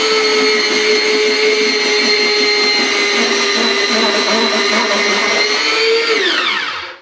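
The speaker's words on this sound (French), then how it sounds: "je râpe les champignons, mais aussi l'oignon" A kitchen food processor grates mushrooms and onion with a loud, steady motor whine that holds evenly for about six seconds, then spins down and stops.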